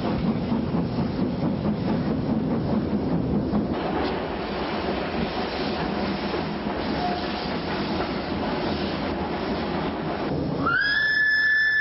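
A train on the Hejaz Railway rumbles steadily along the rails with rhythmic clacking, continuous and fairly close, ending with a brief high-pitched whistle or squeal.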